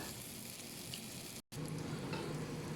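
Tuyo, a dried fish, fries in a pan with a steady, even hiss of hot oil heard close up, cut by a brief dropout midway before the same continuous sizzle resumes.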